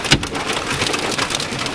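Large hail batters a car during a tornado-producing storm in the South Plains of Texas, a dense, loud, continuous rattle of impacts with a sharp bang near the start.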